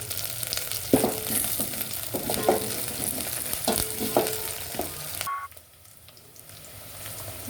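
Green chillies and curry leaves fry in hot oil for palak paneer, giving a close, steady sizzle with stirring clatters that cut off abruptly near the end, leaving a quieter hiss.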